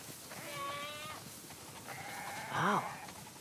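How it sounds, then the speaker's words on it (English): Sheep bleating inside the video game The Last of Us Part II, several wavering bleats from a flock, one call around the middle and a louder, close bleat near the end. "Wow. That's a lot of sheep."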